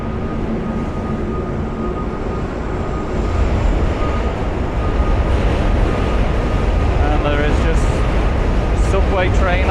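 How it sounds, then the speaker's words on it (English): Subway trains crossing the Manhattan Bridge, a loud continuous rumble and rattle heard close from the walkway, building slightly partway through, with a voice speaking over it near the end. "Subway train after subway train coming across."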